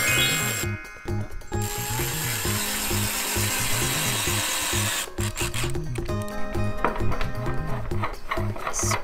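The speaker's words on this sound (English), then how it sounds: "First we drill the holes, and then we use the drill to put the screws in." A small toy drill whirs in several bursts, starting and stopping, close up and fairly loud, as it drills holes and drives screws.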